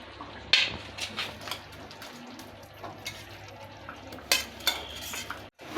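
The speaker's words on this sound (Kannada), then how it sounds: "ಇದ್ರಲ್ಲಿ ನಾವು ಹುರಿದು ಕಟ್ ಮಾಡಿ ಇಟ್ಕೊಂಡಿರೋ ಪನ್ನೀರನ್ನ ಹಾಕ್ಕೊಳ್ಳೋಣ." Fried paneer pieces are added to a boiling gravy of matar paneer and stirred, with scraping spoon strokes against the pot, occasional clinks and a soft bubbling underneath.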